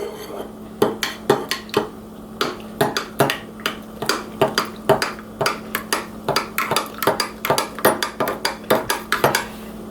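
A spoon clinks repeatedly against a pot while cocoa is stirred into warm milk, a steady run of sharp metallic taps in an irregular rhythm over a low background hum.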